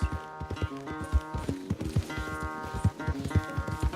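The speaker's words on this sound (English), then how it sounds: "Where's that big mean horse?" Horse hooves in the video game Red Dead Redemption 2 clip-clop in a quick, uneven rhythm, loud and close, with a brief whinny mixed in over a faint musical backdrop.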